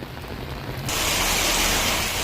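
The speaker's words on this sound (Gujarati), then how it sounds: "ધોધમાર વરસાદ ખાબક્યો છે" Heavy monsoon rain pours down in Gujarat. A dense, hissing wash of downpour swells in abruptly and holds steady and loud, with no speech.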